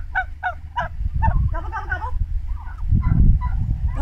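Turkey gobbles in a playful children's game song, sounding like voices imitating the birds: a quick run of rhythmic, nasal, warbling calls repeated several times at close range over a low rumbling background.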